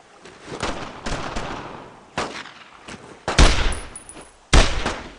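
Gunfire in the game Brothers in Arms: Road to Hill 30 at German barracks, with loud, close rifle and machine-gun bursts in irregular volleys and sharp reports echoing between shots.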